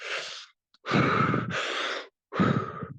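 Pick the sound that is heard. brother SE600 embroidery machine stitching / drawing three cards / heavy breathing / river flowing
heavy breathing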